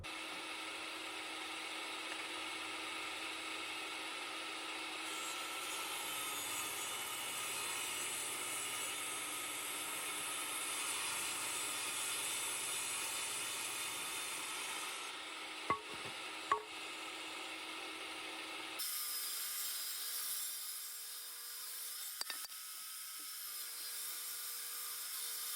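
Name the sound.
table saw ripping wood boards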